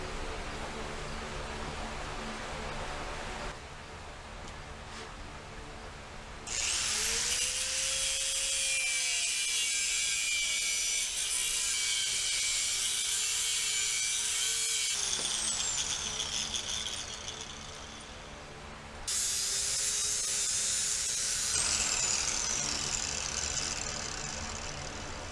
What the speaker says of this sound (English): use a cutoff wheel, cut off all the excess